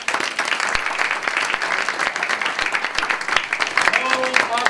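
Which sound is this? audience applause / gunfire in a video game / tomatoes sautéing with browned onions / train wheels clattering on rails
audience applause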